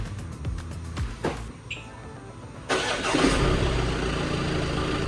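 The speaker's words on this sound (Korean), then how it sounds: "원격 시동, 잠금버튼 길게" A 2018 Audi A6 engine, started by remote start, cranks and catches after a few clicks, then settles into a steady idle, close by, with no talking.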